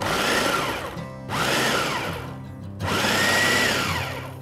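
An electric food chopper coarsely grinds chili paste in two loud, steady motor bursts, each winding down briefly before the whirring grinding starts up again.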